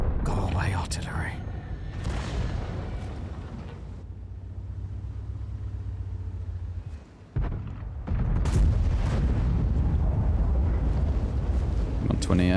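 Artillery fire in World of Tanks, deep booming blasts and rumbling explosions at the start and end with a quieter lull between, under a player's talking.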